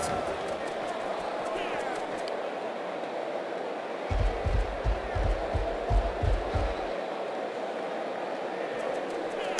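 A stadium crowd in the video game Blood Bowl keeps up a steady roar, with a rhythmic run of chanting or stomping beats swelling in the middle before fading back into the general din.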